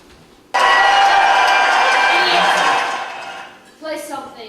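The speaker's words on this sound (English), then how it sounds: "Will no one cheer?" Stage cast in a school theatre production of Peter Pan suddenly bursts into loud, sustained cheering and shouting for Captain Hook, a dense crowd roar lasting about three seconds before fading, followed by a few brief spoken voices.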